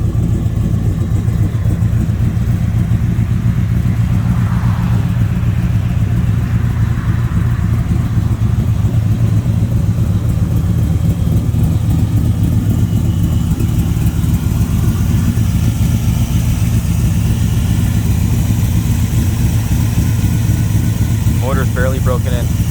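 A 1966 Chevrolet Corvette resto mod with a freshly built, barely broken-in engine idles nearby, a loud, steady low rumble that holds evenly throughout.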